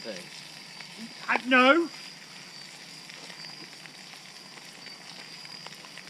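A big steak fries in a pan at a forest campsite in Croatan National Forest, with a faint, steady sizzle running under the scene and one short spoken word near the start.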